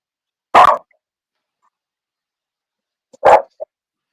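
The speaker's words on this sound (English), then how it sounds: "Who's barking?" Two short barks from a small dog, spaced a few seconds apart with silence between, the second followed by a brief yip.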